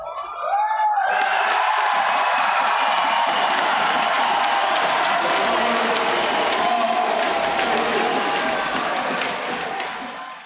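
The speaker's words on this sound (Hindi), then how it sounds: "भीड़ लगातार उनकी हौसला अफजाई करती रही और उनके बनाए हर एक पॉइंट पर वाहवाही की गरज सुनने को मिली" Badminton crowd at the India Open cheering for PV Sindhu, a loud, sustained roar of cheering that swells in quickly after a brief quieter start, then holds steady for about nine seconds before fading slightly.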